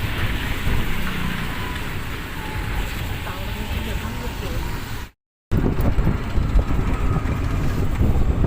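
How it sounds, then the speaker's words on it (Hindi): Heavy rain pours steadily at a Ganesh temple in Depalsar during Ganesh Chaturthi, a loud, dense hiss of falling water with a brief dropout midway before the downpour resumes just as strongly. "तेज बारिश आ गई, दिख रही है थाने।"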